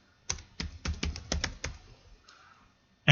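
A handful of quick, sharp keystrokes tapped on a computer keyboard in an irregular burst, close and fairly loud, followed by a short quiet pause and one last thud.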